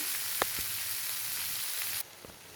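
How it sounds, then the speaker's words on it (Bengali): Chopped tomato fries in a pan for a fish curry with greens, a dense bright sizzle with a few spatula knocks that abruptly drops to a quieter hiss partway through. "টমেটোটা দিয়ে ভালো করে কষিয়ে নেব"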